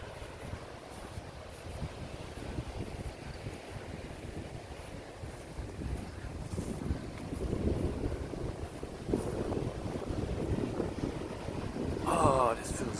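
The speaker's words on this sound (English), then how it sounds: "It's a little windy out here." Wind blowing across a microphone on a beach, a steady broadband rush that swells and gusts in the second half, with faint sounds of someone nearby toward the end.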